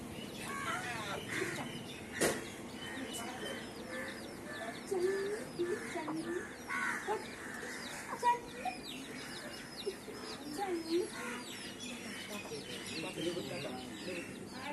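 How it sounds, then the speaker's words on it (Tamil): Chickens and chicks clucking and peeping in a village yard, scattered calls near and far, with people talking in the background. "கோழி இங்க கோழி குஞ்சு பாரு"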